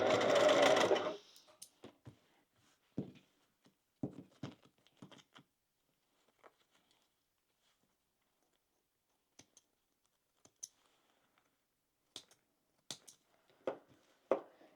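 A sewing machine stitches across a seam on a relaxed crossbody bag, opening with a loud, close burst of running, then going quiet apart from scattered clicks and soft thumps.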